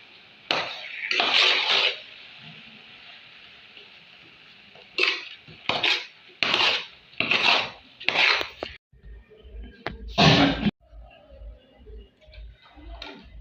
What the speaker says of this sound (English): So I'm going to stir it very well. I'll stir to combine.